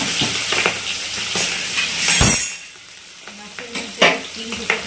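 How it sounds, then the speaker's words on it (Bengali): Hilsa fish with roe tucked inside, frying lightly in oil, giving a loud, bubbly sizzle with stirring scrapes and a few utensil clinks; the sizzle dips briefly before surging again. "বেশি ভাজবো না মাছটা, হালকা ভাজবো, তারপর তুলে নেবো।"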